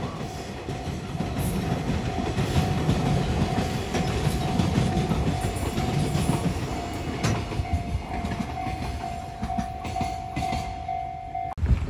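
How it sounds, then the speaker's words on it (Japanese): A freight train rumbles past on a Japanese trunk line, wheels clattering steadily for a long stretch, with a sustained tonal whine running through most of the passage and fading near the end. "AO-SEN方面から来た貨物列車が通りましたね。"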